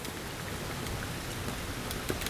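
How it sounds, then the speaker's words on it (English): Steady rain falls outdoors at a house during a siding repair job, a dense even hiss of drops on surfaces that fills the whole stretch without pause, with no talking. "And it's raining again."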